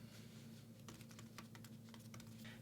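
Fingers type on an iPad Mini keyboard in quick, soft, irregular taps, close but quiet over a steady low hum, with no speech.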